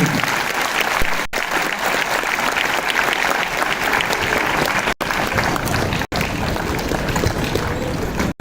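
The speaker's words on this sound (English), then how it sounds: "I think we should keep continuing to stand and applaud." Sustained applause from a conference audience fills the hall, dense and loud throughout, with a few brief breaks in the sound.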